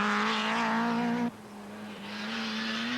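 A Nissan 240 RS rally car on a special stage of the 1984 Welsh Rally, its engine revving high and loud, then cutting off abruptly before building back up as the car drives on.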